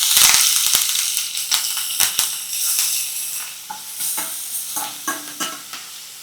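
Thecha with garlic, asafoetida, cumin and curry leaves sautéing in a hot pan: a close, steady sizzle broken by sharp scraping clicks of a spoon stirring at an irregular rhythm, with no voices.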